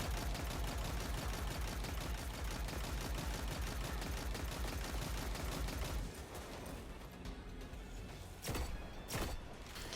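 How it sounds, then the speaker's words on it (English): Gunfire in the Destiny 2 shooter, first a fast, continuous rattle of shots, then quieter stretches broken by a couple of sharp single cracks near the end. "there are snipers trying to kill me"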